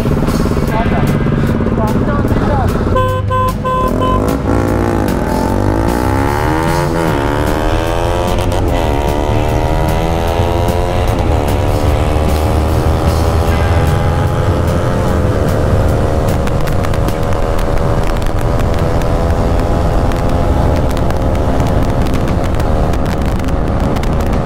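NS200 motorcycles drag race on a Kolkata road at night, engines roaring loud and close as rising revs climb through gears in sweeping pitch runs, with wind buffeting and voices underneath.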